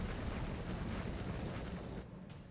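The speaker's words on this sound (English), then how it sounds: "Oh, a barrage incoming." Continuous heavy rumbling barrage of explosions from artillery fire in the RogueTech mech combat game, dense low booming that stays loud throughout and eases slightly near the end.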